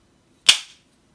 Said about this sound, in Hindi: अब मैं एक को ना आपको तोड़कर भी दिखाती हूँ कि कितना ये जो है ना कड़क बना है